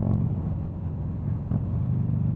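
Buell XB9SX motorcycle engine runs close by in a short burst, a low, throbbing rumble at steady volume with no talking.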